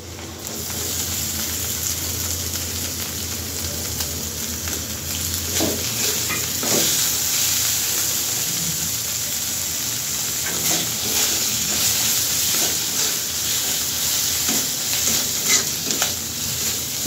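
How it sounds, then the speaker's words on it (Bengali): Hilsa fish tail stirred and fried with spices in a pan, a continuous close sizzle with repeated scraping stirs and occasional crackles throughout, no talk. "মাছটা মশলার সাথে একটু নাড়াচাড়া করে নিয়েই"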